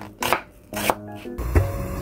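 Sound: chopping onion and butterbur stalks

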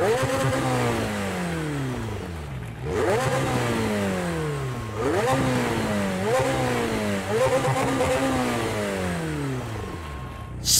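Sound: McLaren 720S engine revving in a racing video game

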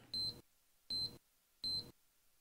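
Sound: fireplace remote constant beeping during ignition

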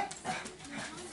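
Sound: dogs barking inside the house

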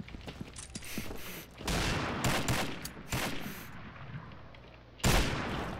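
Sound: gunshots in the video game Combat Arms

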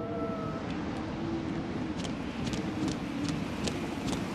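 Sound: wind outdoors in video game Outlast Whistleblower

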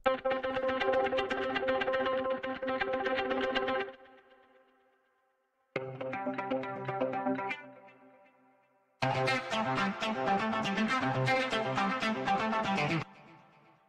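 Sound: guitar loop variation

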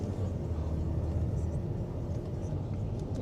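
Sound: used US car's 3.6 engine purring

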